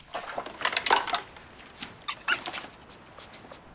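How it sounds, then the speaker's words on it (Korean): An abandoned puppy whimpers in short, high, broken cries, several close bursts separated by pauses, with no talking over it. "버려진 강아지를 발견한 민경."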